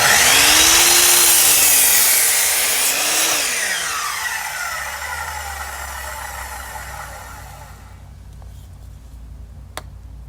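A power saw whines loudly through wood, pitch sweeping as the blade cuts, then winds down to a quieter hum with a sharp click at the end.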